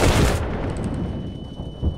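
Gunfire in a competitive video game match. A loud burst of shots opens, then a steady, slightly quieter crackle of firing continues throughout, with another punchy shot near the end.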